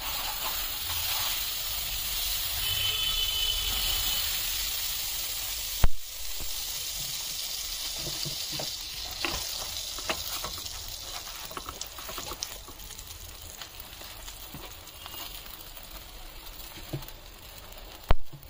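Pav bread toasting in butter on a hot pan gives a steady, close sizzle and hiss, broken by occasional small clicks and taps.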